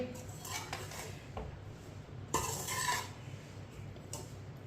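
Powdered sugar being mixed into a semolina laddu mixture in a pan, soft scraping and stirring strokes with light clinks of the utensil, faint and close, one firmer scrape midway.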